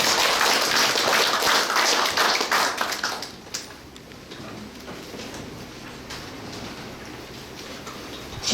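Audience applause at a formal committee meeting in a hall, a dense burst of clapping for about three seconds that then thins out and fades into quiet room noise.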